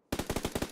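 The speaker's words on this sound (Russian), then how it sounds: "Автомат." Automatic rifle fire from PUBG Lite, a rapid burst of about eight evenly spaced loud shots that cuts in sharply after a brief silence.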